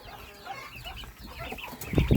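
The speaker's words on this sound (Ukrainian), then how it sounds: "Бентамка своїх он біля лампи гріє" A bantam hen clucks softly to her chicks warming under a heat lamp in a farmyard brooder, with faint peeping throughout and a louder burst of low clucks near the end.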